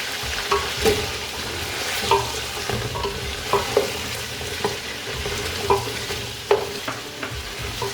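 Potatoes being stirred into frying chicken pulao on a high flame, with a steady sizzle broken by repeated clanks and scrapes of a spoon against the pot.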